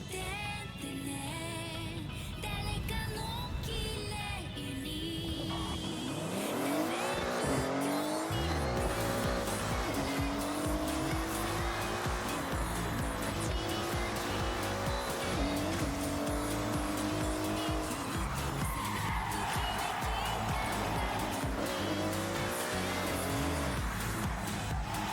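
Porsche driven in the Forza Horizon racing game, with a continuous engine roar and rising, sweeping tire squeals and skids throughout, loud and constant with no talk.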